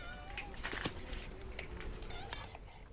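Domestic cats in a feral colony on an island village meow repeatedly, several overlapping cries close by over a low background murmur.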